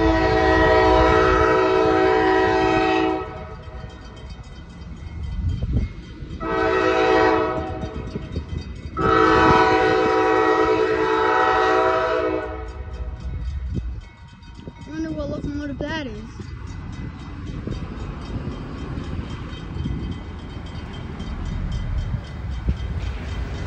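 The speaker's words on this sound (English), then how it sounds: "Got a train coming that way." A CSX CM44AH freight locomotive passes at Mulberry, Florida, blasting its horn in several long, loud chords separated by short gaps, followed by the rumble and clatter of rail cars rolling by; a person speaks briefly amid the noise.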